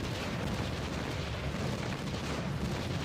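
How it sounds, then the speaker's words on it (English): An artillery barrage rumbles in the Titanfall Assault game: a continuous, dense roar of distant blasts holds at an even loudness throughout, with no talk. "I'm going to drop a barrage on them"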